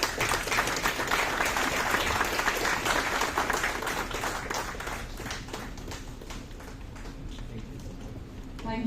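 Audience applause at the end of a session on tax and securities laws, dense steady clapping from a room of people, strongest at first and tapering off gradually, with a voice speaking faintly near the end.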